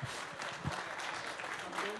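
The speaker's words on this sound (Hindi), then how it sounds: "तालियां तालियां जोरदार तालियां" A studio audience applauds for Punjab Chief Minister Charanjit Singh Channi during a televised political event, with steady dense clapping throughout and a voice speaking over it.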